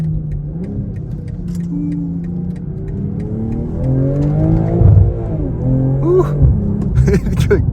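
2023 BMW M440i accelerating hard through the gears with a manual shift on a test drive, the engine note rising in pitch and dropping at each shift, loud and close, with some talk mixed in.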